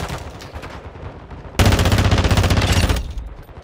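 Machine gun fire in the video game Call of Duty DMZ: a loud, rapid sustained burst lasting over a second, close and dense, following lighter scattered shots, with no talking.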